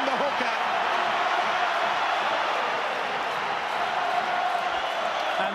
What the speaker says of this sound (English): And suddenly the Wigan crowd come alive.